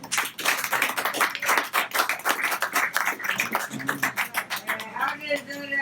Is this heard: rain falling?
no